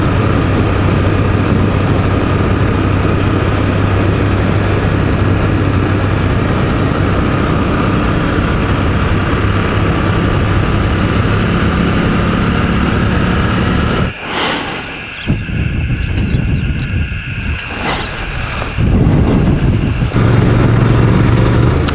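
Royal Enfield Bear 650 motorcycle cruising steadily at 100 km/h in sixth gear around 4,200 rpm, a constant engine drone mixed with heavy wind rush, briefly dipping midway before returning.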